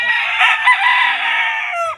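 A game-farm rooster crows loudly and close by, one sustained call lasting about two seconds with a slight cluck at the end, heard alone.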